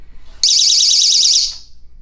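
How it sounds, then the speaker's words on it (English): A window/door security alarm for home security sounds a loud, piercing, warbling electronic siren that starts abruptly, holds for about a second, then cuts off, heard up close with no talking. "And then of course this alarm right here."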